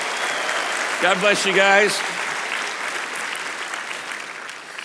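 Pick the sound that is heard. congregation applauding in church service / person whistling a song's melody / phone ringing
congregation applauding in church service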